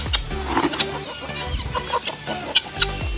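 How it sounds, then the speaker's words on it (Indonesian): Chickens and guinea fowl pecking at bread and bran, with repeated clucks and soft calls close by amid scattered pecking and shuffling, no talking. "Kita bisa lihat sendiri untuk pemberian roti dan dedaknya, ayam mutiara juga makan."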